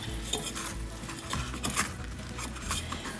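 Lots of sage and rosemary get mixed into food, a close, busy stirring with soft wet squelches, light clinks of utensil on dish and faint patter, continuous and free of speech.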